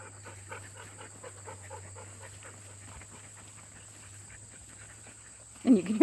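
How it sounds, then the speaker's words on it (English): Dogs dig around outdoors and pant faintly in a soft, rhythmic pattern under a steady background hum, with a brief louder noise at the very end. "you can hear the dogs digging around behind me"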